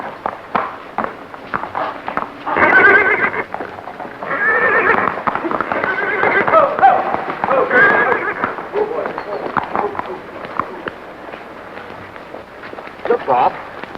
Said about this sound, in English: Anyone know who owns this horse?